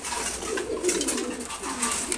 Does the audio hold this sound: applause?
no